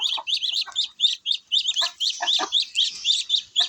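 Hen clucking repeatedly in a rapid, bright rhythm, close and fairly loud, with other chickens calling over it. The hen is a yellow-legged, red bird.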